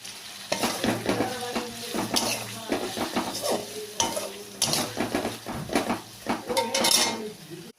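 Potatoes with dried chilli, coriander powder and cumin powder are stirred in a pan, with a busy, close clatter of a metal spoon scraping and knocking the pot over a light sizzle and no talking.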